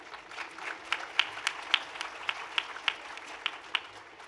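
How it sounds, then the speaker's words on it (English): An audience applauds a speaker at a panel discussion on fiction. Scattered sharp claps stand out over a softer wash of clapping, at a moderate distance and without voices. "So a loud round of applause for Huma."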